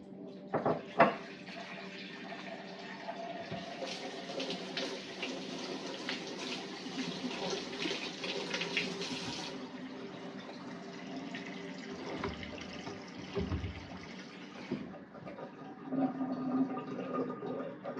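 Tap water runs steadily into a glass Pyrex bowl, a continuous splashing rush at moderate volume that shifts in tone partway through, with a few clinks.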